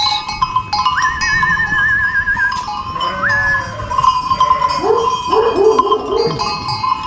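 A flock of sheep in wet, muddy pasture with goats and dogs nearby, cowbells clanking steadily throughout and several bleats overlapping toward the end, close and fairly loud.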